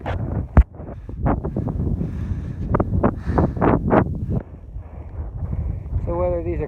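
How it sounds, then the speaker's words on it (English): Strong desert wind at an opal mining claim in Virgin Valley, Nevada, buffets the microphone as a steady roaring rush, heard under someone talking close by throughout. "And it's extra windy right here."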